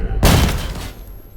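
A single loud, close grenade blast in Stalker GAMMA, a sudden boom that dies away over about a second into a quiet tail.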